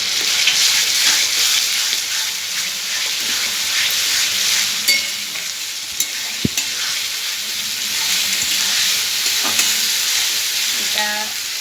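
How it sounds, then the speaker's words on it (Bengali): Browned onions frying in a pan with garlic and onion paste just added give a loud, dense, continuous sizzle up close, with occasional clinks and scrapes of stirring. "আমার পেঁয়াজটা লাল লাল করে ভাজা হয়ে গেছে, এবার এতে আমি রসুনটা পেঁয়াজ বাটাটা দিয়ে দিলাম"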